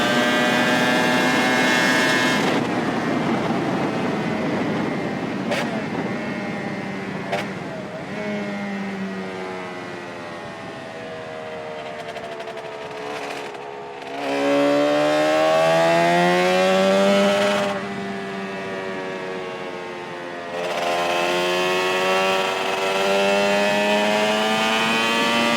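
Two-stroke Suzuki motorcycle engine at a Cadwell Park track event, loud and close with a buzzing revving note that rises and falls through repeated passes, crackling sharply between bursts.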